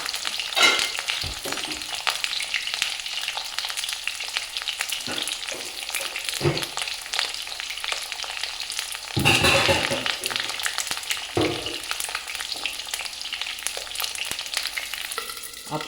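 Stuffed bitter gourd (karela) frying under a lid in a covered pan, giving a steady close hiss of sizzling oil with occasional louder bursts and scraping stirs.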